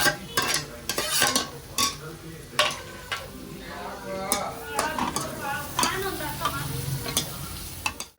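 Onion, capsicum and carrot being stir-fried in a pan for a paneer roll, with a close sizzle and rapid scraping, clattering strokes against the pan, and some voice-like sound mixed in.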